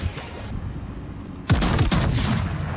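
Naval gunfire in World of Warships: a sudden heavy blast from ship guns erupts after a quieter rumbling stretch, followed by a couple of further booms and sustained rumbling as the salvo rolls on.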